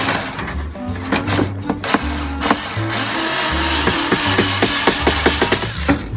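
Screws driven back into the trim of a Heng's Vortex II roof vent on an Imagine 22 MLE trailer, power driver whirring in loud bursts with ratcheting clicks and clunks close up, no talking.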